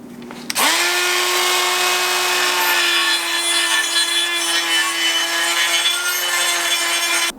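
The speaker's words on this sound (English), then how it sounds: "The aluminum's gunking up the carbide bit." A carbide bit cuts into an aluminum plate with a loud, continuous high-pitched whine and harsh grinding that holds steady for several seconds after a sharp start, with no talking.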